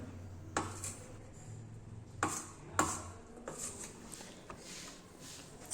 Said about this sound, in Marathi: आता मी कांदा चिरून घेते